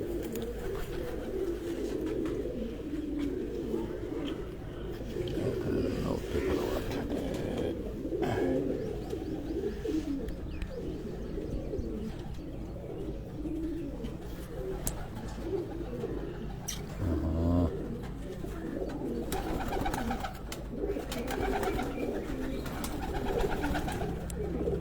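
Rare breeding pigeons coo steadily and continuously, a close, low, throaty chorus that fills the whole stretch with no voices over it.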